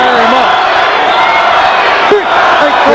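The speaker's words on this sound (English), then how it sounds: "The crowd gets into it, tries to chant Johnny" A dense boxing arena crowd at Evander Holyfield versus John Ruiz roars steadily and loudly, with rhythmic chanted calls rising out of the din, while talk runs beneath it.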